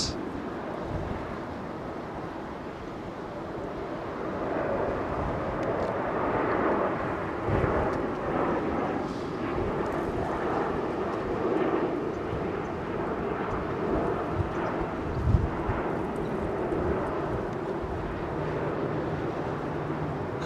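A Turkish Airlines Boeing 777 glides in on approach at Heathrow, its engines a low, swelling rumble that builds and wavers for about twenty seconds, moderately distant with a few gusty bumps.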